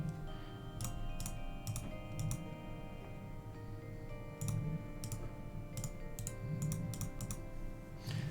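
Fast spam clicking at a computer while playing Old School RuneScape, crafting air orbs: quick bursts of crisp clicks over a constant hum of background game sound.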